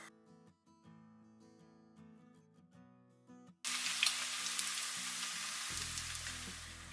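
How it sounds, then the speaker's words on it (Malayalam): A batch of cauliflower drops into hot oil and erupts into a loud, dense deep-frying sizzle that continues steadily, following a quieter stretch of soft background music. "ഇനി നമുക്ക് അടുത്ത ബാച്ച് ഫ്രൈ ചെയ്തെടുക്കാം."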